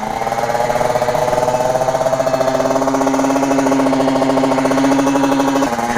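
A Yamaha 450 YZF supermoto engine runs with an odd, rapid, rattling knock, a steady mechanical chatter held close and loud throughout.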